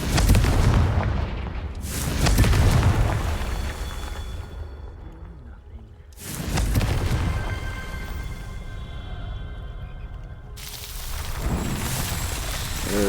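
Spell explosions in a video game, three heavy booming blasts spaced a few seconds apart, each loud burst trailing off into a ringing decay.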